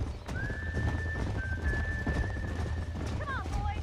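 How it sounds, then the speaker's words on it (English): Horses gallop and whinny in the Western video game Red Dead Redemption, clip-clopping hooves under a long whistling tone and a closing neigh over steady background rumble. "There's the horses! Get that lasso ready!"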